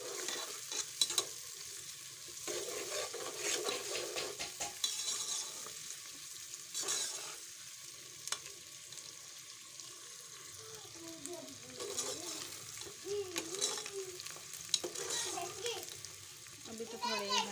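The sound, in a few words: onions frying and being stirred until dark brown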